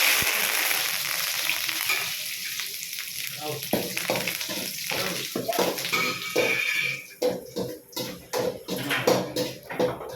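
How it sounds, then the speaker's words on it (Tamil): Curry leaves dropped into hot oil burst into a loud, crackling sizzle that settles to steady frying, then rhythmic stirring scrapes grow louder toward the end; a voice talks underneath. "ரெண்டாவது கருவேப்பிலை போடுறாரு காய்ஸ்."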